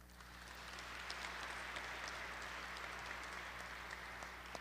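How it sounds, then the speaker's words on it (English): Audience applause at an Assistant Adjutant General change of command ceremony, quiet and distant steady clapping swelling in over a low hum and then holding evenly. "I want a round of applause for Major Allen and Major Ridley"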